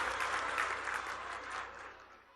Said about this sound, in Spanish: Fuerte que se escuche ese aplauso, que estamos de fiesta